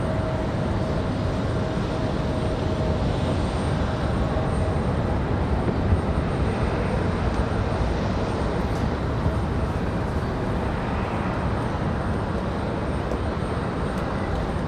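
A Lockheed C-130 military transport aircraft passes at Raleigh-Durham International Airport, a steady moderate propeller and engine drone that holds evenly for the whole stretch with no talk over it.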